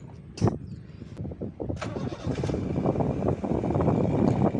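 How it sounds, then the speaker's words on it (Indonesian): A 2008 Honda Jazz RS engine cranks briefly and catches, then settles into a smooth, fairly quiet idle that holds steady and close. "Sekarang kita mau coba nyalain mesinnya, kita perhatikan suaranya."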